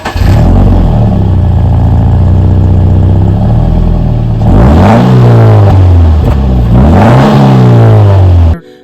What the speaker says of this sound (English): Obviously, I want an exhaust on it. Right now, it sounds so bad.